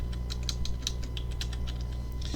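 Typing on a computer keyboard with a quick, uneven run of light clicks and taps, close and steady, with no talking.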